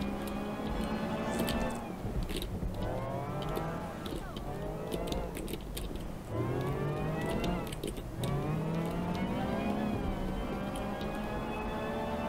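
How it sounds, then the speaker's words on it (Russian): A car engine in the video game Watch Dogs Legion revs up again and again, its pitch climbing steadily and dropping at each gear change, loud and continuous. "О, какой классный звук у машины, а?"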